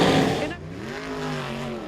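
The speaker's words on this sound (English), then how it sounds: "And he's done some donuts and it's gassed up." V8 dirt modified race car doing donuts on a clay track in Toowoomba, a loud, close engine roar that falls away and settles into a sustained revving drone, with no voices.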